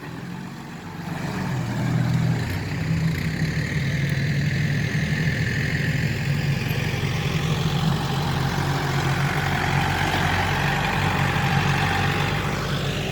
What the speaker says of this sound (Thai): เออลืมเข้าเกียร์ก็เบิ้ลอยู่นั่นแหละ